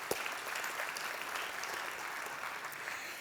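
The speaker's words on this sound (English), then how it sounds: "So if we could give them a round of applause." An audience at a city's state-of-the-city address gives a round of applause, dense even clapping from many hands sustained throughout, a little distant.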